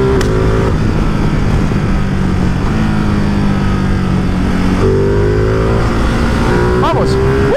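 A Ducati Multistrada 950 S motorcycle engine while riding, droning loud and close as the revs climb steadily through several gear changes, with a rider talking over the engine noise.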